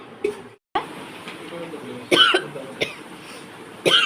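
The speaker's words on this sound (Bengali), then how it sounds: "কাশি হচ্ছে কেন অসময়ে চান করে করে এরম হচ্ছে" A person coughs with a sore throat, blamed on bathing at odd hours: three sharp, close coughs spaced across the later seconds, with throaty vocal noises between them.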